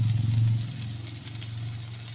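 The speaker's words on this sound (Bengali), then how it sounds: "কচুর ফুলটা ভাজার জন্য দিয়ে দিলাম পেঁয়াজ কুচি, দিয়ে দিলাম কুচিয়ে রাখা কাঁচা লঙ্কা।" Taro flowers fry with chopped onion and green chilli in a pan, a steady close sizzle with a low hum and faint stirring.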